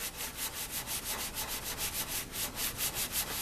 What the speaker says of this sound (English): this is a very fine sanding sponge. And you can really get her pretty slicked up with this.